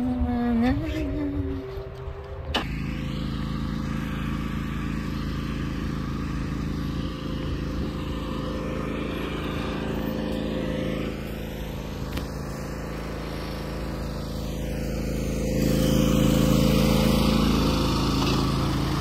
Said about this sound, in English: Done from mowing